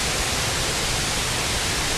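A loud waterfall roars up close with a steady, dense rush of falling water and spray that fills the whole sound, with no voices over it.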